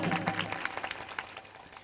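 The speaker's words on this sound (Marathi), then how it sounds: "जोरदार टाळ्या आमच्या साऊंड ऑपरेटर दादासाठी" An audience at a kirtan devotional program claps for the sound operator, a brief loose patter of hands that is moderately near and fades within a couple of seconds.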